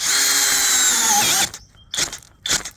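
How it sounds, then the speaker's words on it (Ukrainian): A small cordless drill driving a large wood bit into acacia whines loudly and steadily for over a second, then cuts off, followed by two short, sharp bursts of drilling close up. "А, акацію взагалі не хочу свердлити."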